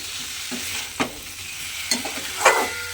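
Vegetable curry being stirred and mixed with salt in a pan, with a soft sizzle underneath and four or five distinct scraping strokes of the spoon at irregular intervals, close and moderately quiet.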